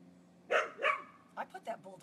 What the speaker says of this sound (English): I put that bulldog out in the kennel today. If you wonder what that barking is